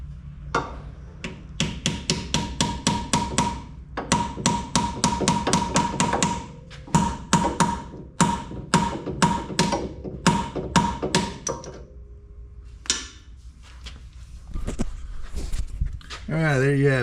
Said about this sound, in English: we're gonna start tapping it in, and we just need to hammer it in there till it's flush